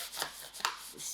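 Knife cutting the stem off a fresh mielie (corn cob) in a kitchen, a few faint rasping chops and rubs of the blade through the fibrous stem and husk, close and brief.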